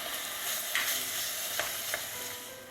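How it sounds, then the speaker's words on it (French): A spatula stirs a cooking mixture for oven-baked arancini in a pan, giving a soft steady scraping with a low sizzle beneath and a few sharper scrapes against the pan. "mélangez bien le tout à l'aide d'une spatule"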